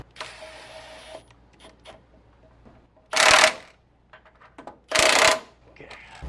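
An impact wrench on its lowest torque setting drives truck lift bolts on a 2014-2018 Silverado, giving two short, loud bursts of rattling hammering between quieter whirs and clinks, close by.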